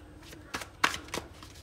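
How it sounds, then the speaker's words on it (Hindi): A deck of tarot cards is shuffled up close in a few quick riffling bursts, crisp and papery against a quiet room. "टैरो, यहाँ पे शफल करते हैं।"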